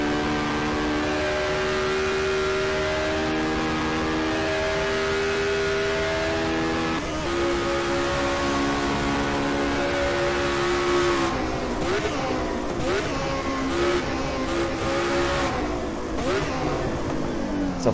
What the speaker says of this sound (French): J'aime beaucoup le son de cette voiture.